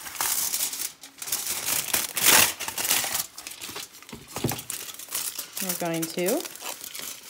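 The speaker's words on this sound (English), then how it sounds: "Take some tin foil and just take a little bit of tin foil out." Tin foil is pulled from a roll and crumpled by hand into a small shape, giving loud crinkling and a sharp tearing burst, with a person talking briefly over it.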